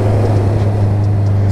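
A 2017 facelift Honda CB650 naked motorcycle rides along city roads, giving a loud, continuous low engine drone with a steady hum and rushing wind noise.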